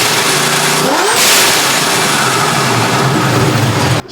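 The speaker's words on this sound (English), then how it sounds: "love the way this truck sounds now with the new pipes" An LS-engined shop truck with new exhaust pipes revs loudly with a deep, throaty exhaust roar, pitch rising sharply then settling into a rumbling idle, close up.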